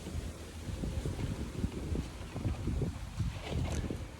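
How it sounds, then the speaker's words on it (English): Wind buffets the microphone in a steady, low, rough rumble with gusty swells, continuous and fairly close. "It's getting a little bit windy."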